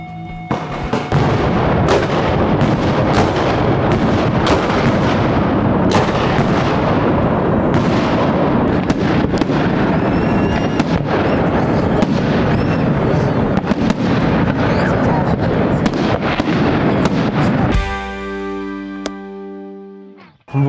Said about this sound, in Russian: Запустишь салют?